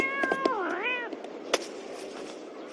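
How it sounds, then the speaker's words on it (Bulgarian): Cartoon cat meows loudly with a rising-and-falling, wavering cry over a busy animated-show background, followed by a few sharp knocks and bumps. "Котенце! Ела тук,"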